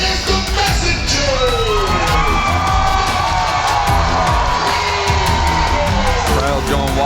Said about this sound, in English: Crowd's going wild out here too.